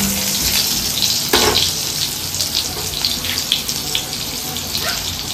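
Running water pours over chana dal and matar dal being washed, a continuous splashing rush with a few brief louder splashes and faint voices in the background.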